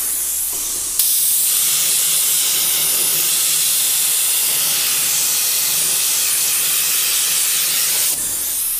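Compressed-air paint sprayer coating the underside of a glass trivet with paint, a steady loud hiss that starts abruptly, holds evenly for about seven seconds, then cuts off.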